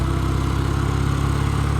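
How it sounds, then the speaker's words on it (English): A BSA Golden Flash motorcycle engine, a restored barn find, running with a steady rhythmic low thrum, close and continuous, with no voices. "it feels lovely, that engine"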